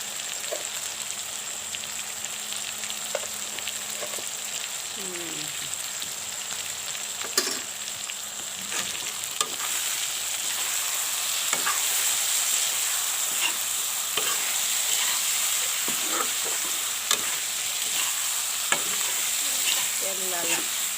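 Meat fries and sizzles steadily in hot oil with turmeric and salt, while a utensil scrapes and stirs the pan at intervals; the crackle is close and continuous, with a few faint background voices.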